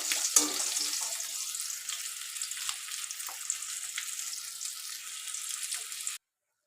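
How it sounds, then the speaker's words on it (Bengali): Potatoes frying in oil left over from frying fish, a steady soft sizzle with small crackles running evenly for about six seconds before cutting off, no voices. "এই তেলেই আলু ভেজে নেব"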